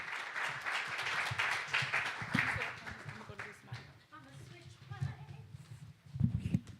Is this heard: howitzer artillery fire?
no